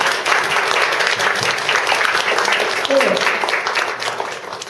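An audience at a Korean gathering honouring mentors breaks into steady applause, a dense wash of clapping that carries on throughout while a voice speaks briefly over it.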